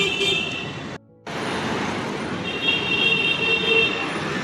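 A sleeper travel bus pulls up on the road, its engine rumbling close and loud over steady roadway noise, with a brief cut in the middle before the drone resumes along with a faint high whine.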